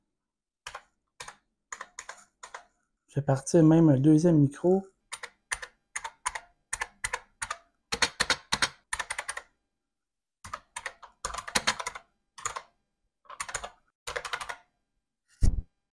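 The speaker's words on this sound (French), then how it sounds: "C'est quand même un clavier qui fait beaucoup de bruit" Heavy, rigid mechanical computer keyboard clacking loudly in short bursts of typing, with pauses between runs and a brief stretch of someone talking in French partway through.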